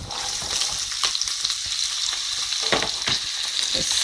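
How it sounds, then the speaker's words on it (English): Chilli and chopped onion fry in a pan over low to medium heat, making a loud, dense, continuous sizzle broken by occasional stirring scrapes, with no voices. "now to that I've decided to add that chilli"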